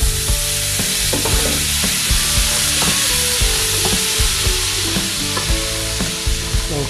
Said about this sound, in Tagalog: ilalagay ko na itong ating seafood.